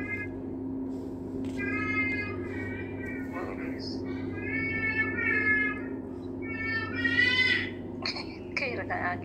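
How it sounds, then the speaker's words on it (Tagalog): A cat meows repeatedly in short, high, tonal calls outdoors during an evening dinner gathering, with people talking nearby and a steady low hum running underneath. "Parang pusa ba?"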